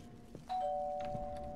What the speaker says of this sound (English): So the doorbell.